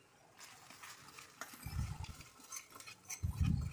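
Coriander powder, salt and fried tempering masala are stirred into washed rice in a rice cooker for Telangana bagara rice, a spoon scraping and clinking against the pot in two louder bursts.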